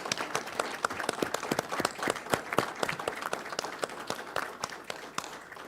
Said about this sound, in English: give all of these folks who've been read and who are here a big round of applause